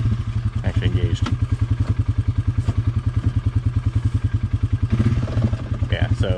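A four-wheeler engine idles with a rapid, steady thumping pulse close by, with brief clunks as the shifter is pushed into reverse and a person talking over it.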